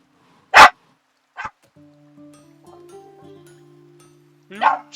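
A dog gives two sharp barks at close range, is then nearly silent apart from a low hum, and ends with a whimpering yip.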